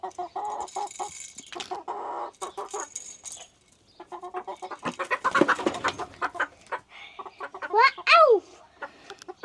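Young chickens not yet laying eggs on a small farm in Germany, clucking and chirping in repeated close bursts, with a brief exclamation from a person partway through.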